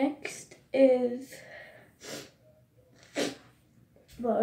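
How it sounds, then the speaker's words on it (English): A person blows their runny nose after getting water in it, several short bursts of breathy blowing and snorting close to the microphone, separated by brief pauses. "blowing my nose because that water made my nose runny"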